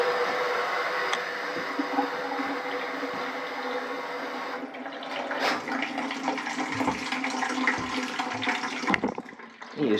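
Water and mud flushing out through a pipe from a steam boiler, a steady loud rushing gush that continues throughout, with slight surges toward the end.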